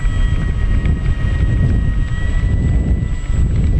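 FMS F7F Tigercat RC plane taxiing in a flight simulator game, a steady droning engine hum held at constant loudness with a thin high whine over it, continuous and close.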